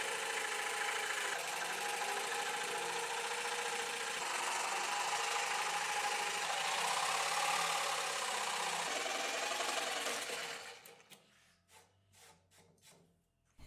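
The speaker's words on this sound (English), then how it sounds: "I can trace their locations directly onto the wood here, and then I cut these out with a jigsaw." A jigsaw cuts notches into wooden shelving, a loud continuous buzzing rasp that runs steadily for about ten seconds, then stops and gives way to a few scattered knocks.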